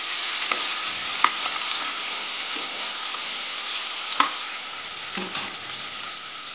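Chopped medium onions frying with liver in a pan, a steady dense sizzle throughout with a few sharp clicks of a spoon stirring against the pan, close and loud, no voices.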